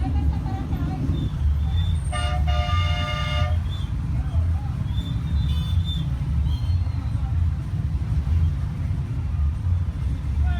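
Dense street traffic of motorcycles, mopeds, scooters and four-wheelers in Las Terrenas, Dominican Republic, with a constant loud engine rumble, a long horn blast near the start, scattered short toots and voices talking over it.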